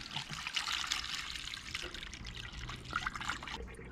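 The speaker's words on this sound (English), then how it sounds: "Filling it up with this hard water will definitely help." Hard water pours into the radiator of a 1965 Ford Ranchero, a steady close trickling stream of liquid running alone for several seconds.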